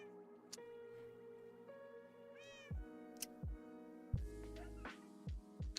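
A shy, plump pet cat meows repeatedly, several drawn-out and tonal calls close by, some rising and others clipped, spread over a few seconds in a quiet room.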